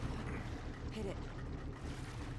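A motorboat engine rumbles steadily over rushing water in the action game Uncharted: Drake's Fortune, a low, continuous drone with a voice talking over it.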